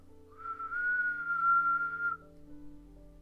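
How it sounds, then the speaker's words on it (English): A steady, sustained whistled tone held for nearly two seconds, clear and close, with a faint low hum underneath and no talking. "I don't exactly know how I whistle, but I can just do it."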